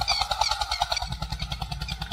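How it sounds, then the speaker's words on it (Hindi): Eicher 241 tractor engine pulling a cultivator through a field, a loud, close, steady diesel chug with rapid regular pulses and a rough mechanical rattle, heard alone. "देखो ट्रैक्टर दब रहा है थोड़ा सा"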